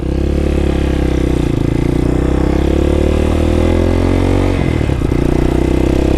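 A Can-Am Spyder three-wheeled motorcycle revs loudly and pulls away, its engine drone steady and close, with the pitch rising as it accelerates and a rough clattering change near the end.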